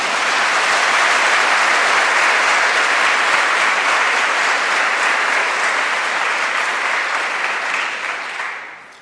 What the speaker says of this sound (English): You have already given them warm applause, but I think you should do that once again.